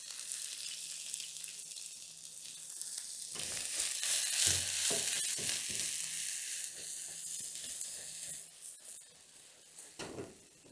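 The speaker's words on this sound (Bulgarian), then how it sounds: "Докато лука се готви, омеква и започне да се карамелизира" Half an onion is frying in a hot pan with a steady close sizzle that swells after a few seconds, broken by occasional stirring scrapes, and no one talks.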